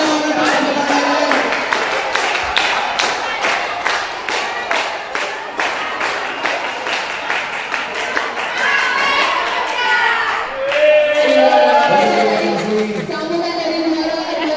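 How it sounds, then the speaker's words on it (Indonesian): At a yell-yell contest, a crowd claps in rhythmic unison at the announcement of the winners, with children's voices and talk rising through the clapping toward the end. "Sampai tepuk tangan semuanya, tepuk tangan"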